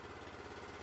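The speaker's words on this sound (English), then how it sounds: "you got your engine started" A small engine on an Anderson IFX-660 bale wrapper idles steadily, a close, even low mechanical thrum with a regular pulsing beat and no voices.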